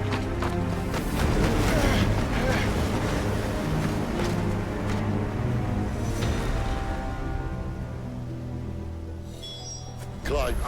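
Steady wind roars and rumbles through a Final Fantasy XVI game scene, loud and continuous, with faint tonal game sounds toward the end.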